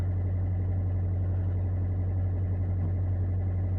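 An Opel Vivaro van engine idles steadily up close at 825 rpm, a constant low rumble with a fine regular vibration and no variation in speed; the engine speed sensor may be faulty.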